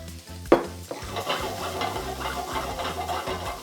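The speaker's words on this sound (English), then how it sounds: "give them a quick saute for only about 2 minutes" Pork medallions sauteing in a hot pan, a continuous close sizzle after a sharp initial clatter, with soft scraping and utensil movement throughout and no speech.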